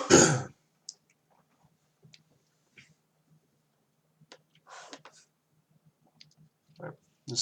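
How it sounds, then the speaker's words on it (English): A person coughs in a quiet room, with one loud burst at the start followed by scattered softer coughs and throat sounds, closing with another short burst. "Excuse me for coughing."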